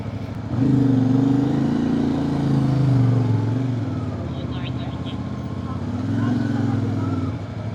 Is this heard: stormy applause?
no